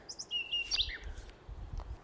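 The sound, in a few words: birds singing in the mountains in the morning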